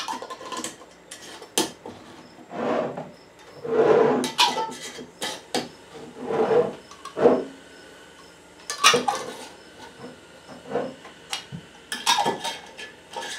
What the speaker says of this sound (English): Put some lids on these for right now.